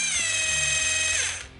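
A rotary hammer drill whirs loudly at a steady high pitch for about a second and a half, then winds down as the trigger is released.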